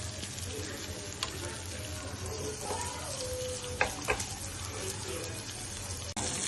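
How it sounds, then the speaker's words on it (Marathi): Prawns shallow frying in a pan, a steady low sizzle running throughout with a few sharp clicks and scrapes of stirring, close and fairly quiet. "बघा, आता ह्याला 2 ते 3 मिनिटं आपण शॅलो फ्राय करून घेऊया."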